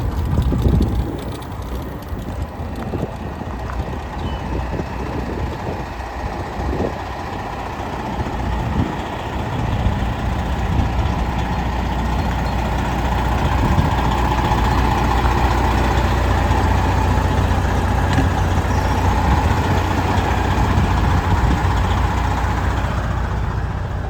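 A 2016 Peterbilt Pride and Class glider kit truck idles nearby, a steady low diesel rumble that grows slightly louder and fuller partway through, with no voices over it.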